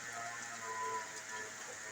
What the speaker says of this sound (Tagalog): Napakalakas naman po ng ulan dito sa amin ulit